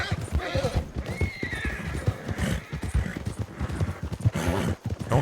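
A horse's hooves clip-clop in a quick, steady rhythm close by, broken by a loud whinny, with faint voices in the background.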